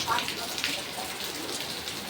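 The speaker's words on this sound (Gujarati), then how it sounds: "પાછો વરસાદ ચાલુ થયો." Steady rain pours down outdoors during a heavy downpour, a continuous hiss of falling water that persists evenly throughout with no clear breaks.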